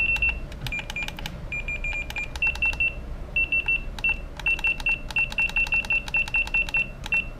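Sharp electronic beeps from a QAV210 drone's low-battery voltage alarm sound in rapid repeated clusters, a steady insistent alarm pattern over a low background hum.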